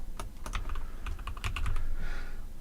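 Typing on a computer keyboard while setting up Python: a quick, irregular run of close, crisp key clicks in short bursts over quiet room tone, with no voices.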